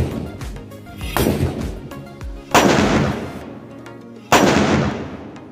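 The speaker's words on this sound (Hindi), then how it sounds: "दोनों को फोड़ेंगे, तो हमारा दोनों वाले धमाके कुछ इस प्रकार रहने वाले हैं।" Two homemade potash guns loaded with sulfur-potash powder fire: two sharp, loud, close blasts a couple of seconds apart, each with a noisy decaying tail, after a stretch of rustling outdoor background sound.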